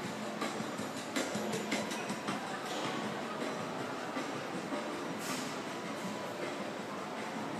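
Train wagons roll along rails with a continuous rumbling roar, scattered clicks and metallic clatter, fairly distant and steady throughout.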